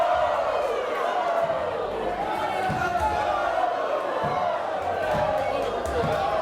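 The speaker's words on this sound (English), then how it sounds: "the crowd serenading PJ Phil with the woos" A wrestling crowd chants and howls woo at PJ Phil, a loud, sustained roar with rising and falling calls, over thuds from the ring and a commentator's voice.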